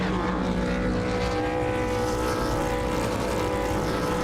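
A pack of V8 Supercar engines in a racing simulator game drone and rev steadily together on the starting grid at Winton, a dense, constant mechanical roar with no pauses.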